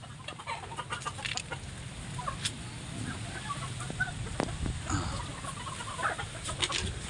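Chickens cluck softly and intermittently over a steady outdoor background hiss, with scattered short calls throughout.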